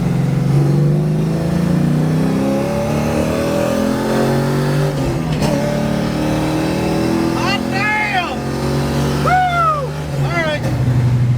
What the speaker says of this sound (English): Alright, we're going to do a highway pull here.